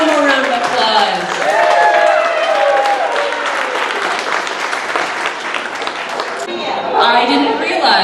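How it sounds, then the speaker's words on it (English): Audience applause after first prize is awarded in a Young Punks competition at a steampunk exhibit: dense, sustained clapping for about eight seconds with voices and cheering mixed in, swelling again near the end. "One more round of applause."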